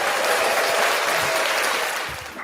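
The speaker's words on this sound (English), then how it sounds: "Can we have a clap animation for that?" A burst of applause plays as a sound effect on a sports podcast, a dense wash of clapping lasting a couple of seconds and fading slightly at the end, loud and with no voices over it.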